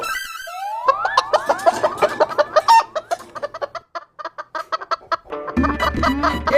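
Loud, agitated clucking and squawking from several cartoon chickens close by, rapid bursts overlapping, ending with a rougher low cackle.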